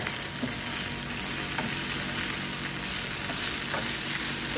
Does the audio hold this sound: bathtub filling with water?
no